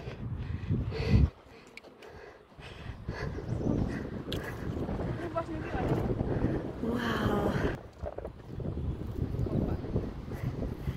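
Strong wind buffets the microphone in loud, rumbling gusts on a hike to Siligudi Danda, Nepal, with a brief lull and faint voices mixed into the roar.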